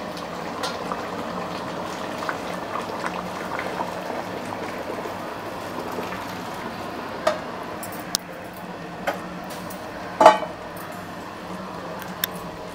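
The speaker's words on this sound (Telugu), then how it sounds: "చూడండి ఉడుకుతూనే ఉంది." A pot of water kept on a low flame boils while chicken biryani is prepared, giving a steady bubbling and simmering hiss close by, with a few sharper clinks and pops breaking through.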